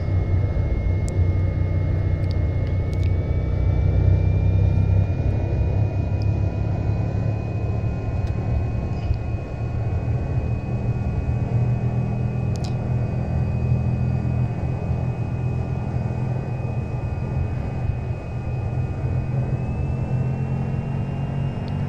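Cessna Caravan turboprop engine in the X-Plane 11 flight simulator at high taxi power, a steady loud droning rumble with a constant high whine, running alone without pause.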